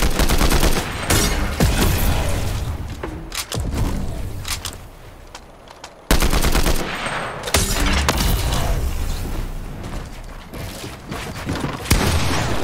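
Combat assault rifle fire in Fortnite crackles in rapid bursts of sharp, loud shots, with brief pauses and a sudden restart partway through.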